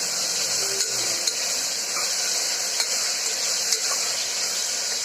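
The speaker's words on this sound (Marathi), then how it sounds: "कांदा टोमॅटो चांगले परतून घ्यायचे, अगदी गुलाबी रंगावर." Chopped onion and tomato sauté in a hot pan with a steady, close, even sizzle and a few faint stirring clicks, and no talking.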